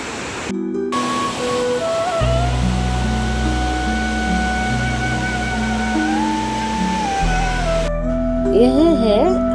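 The Bhagirathi river at Devprayag in Uttarakhand rushes in a steady broadband wash of flowing water, with a sustained tonal drone and melodic music layered over it throughout.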